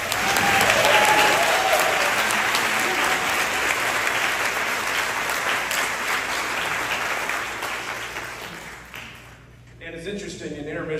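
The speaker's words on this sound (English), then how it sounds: "can I hear a big round of applause for you?" An audience at a symphony pops concert claps loudly and steadily for around nine seconds, the dense applause fading out before a voice speaks over the quieter room.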